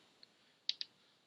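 Mouse clicks on a button in the MATLAB graphical interface: one faint tick followed by two sharp, close clicks in quick succession, quiet and alone with no speech.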